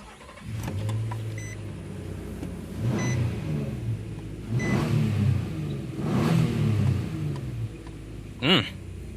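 A 2014 Nissan Xterra engine cranks, starts and revs, with rising and falling engine rumble in a few surges and a short beep near the end, heard from inside the vehicle.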